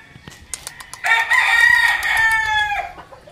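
A McLean Hatch gamefowl rooster crows once, loud and close, a long strained call lasting nearly two seconds after a few short clucks.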